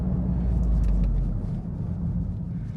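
A Toyota GR Corolla drag racing gives a deep, loud engine rumble that swells, then eases off, with a heavy low drone throughout and no speech.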